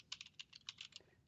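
Fast bursts of typing on a computer keyboard, entering a command in a terminal; clicky keystrokes come in a quick irregular run, close and fairly quiet, with no voice present.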